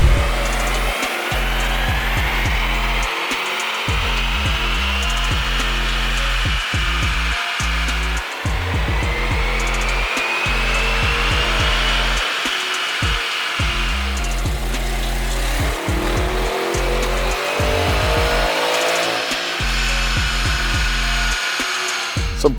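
A 2023 Audi RS6 runs hard on a dyno, its engine roaring loudly and continuously through several rising pulls with a whining sweep, close up and without any voices.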